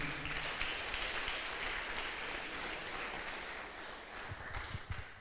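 Church congregation applauding during a Bible study service, a continuous wash of clapping from many hands that holds steady and then becomes more uneven with some louder individual claps near the end.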